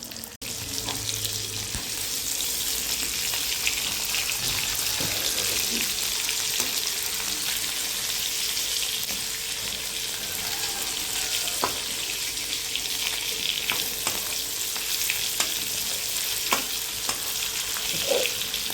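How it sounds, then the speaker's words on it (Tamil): Fish fries in leftover oil in a pan, making a loud, continuous crackling sizzle with scattered pops and occasional stirring across the whole stretch, with no voices. "இருக்கிற எண்ணெயிலேயே அழகாக மீனை கொண்டு வறுத்து எடுத்துக்கலாம்"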